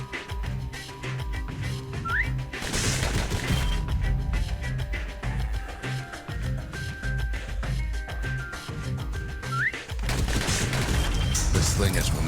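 Gunfire from the video game Bastion: dense, continuous volleys of shots with whistling tones and crashes, loud and sustained throughout.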